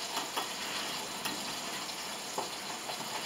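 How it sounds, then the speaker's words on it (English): Bacon frying in a pan gives a steady close sizzle with scattered small pops and light clinks, continuous and alone without voices. "Keep me on the bacon, I don't want it too crisp."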